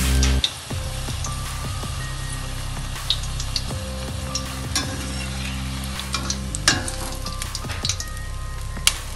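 Puri frying in hot oil for sweet puri, with a dense continuous sizzle and bubbling, punctuated by a few sharper crackles and pops, close and fairly loud.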